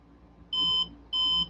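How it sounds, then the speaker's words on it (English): Killer B kill switch on a Losi DBXL 2-stroke RC truck giving two short, clear electronic beeps about half a second apart, close by and otherwise quiet. "There's a beep,"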